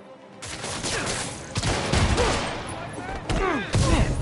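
Rapid bursts of gunfire crack through a Spider-Man video game fight scene, sharp volleys repeating over several seconds amid a loud, busy mix with voices talking over the shots.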